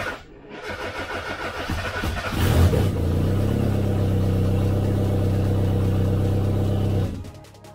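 A Mazda MX-5 engine cranks on the starter and then catches, settling into a loud, steady idle with a strong low rumble. It runs for about four seconds before being shut off, with no talk over it.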